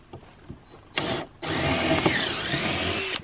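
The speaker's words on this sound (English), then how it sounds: "I have a 3/16 drill bit and I'm gonna pre-drill all these holes." A power drill with a 3/16 bit pre-drills holes in wood in freezing winter weather. A brief whir is followed by a longer, loud, close run that shifts pitch partway through.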